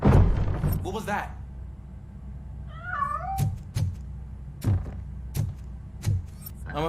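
Cat meowing in the Robocop: Rogue City video game, a rising-falling meow around the third second, followed by several sharp thuds and knocks, with a voice talking briefly at the start.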